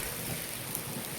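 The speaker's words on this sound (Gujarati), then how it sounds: "વરસાદ આવી ગયો છે જોવો મસ્ત મજાને જોવો પાણી જાય છે" Rain falls outdoors in a Gujarat village as a soft, even hiss of steady downpour, faint and continuous, with no voices.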